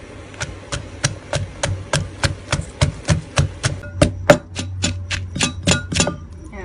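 Curry paste of shallots, chili, lemongrass and galangal pounded in a mortar: about twenty steady, sharp thuds in a regular rhythm, close and clear, with a low hum underneath and no talking.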